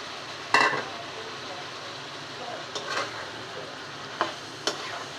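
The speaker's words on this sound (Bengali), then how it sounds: "সবজিগুলিও কষিয়ে নেব" Vegetables for a winter curry stirred and sautéed in a pan with onion, ginger-garlic paste and spices, a soft steady sizzle with a few sharp utensil scrapes and clinks over it.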